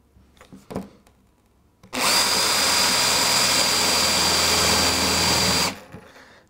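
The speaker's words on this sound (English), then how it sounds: "Not losing sight of where that is where I need to drill my hole." A power drill bores a hole through foam rubber on a model railway baseboard, starting after a few quiet knocks and running loud and steady for about four seconds before cutting off.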